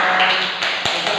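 Dense, loud applause from students in a Grade VIII classroom at SMPN 1 Jember, brisk overlapping hand claps filling the room throughout.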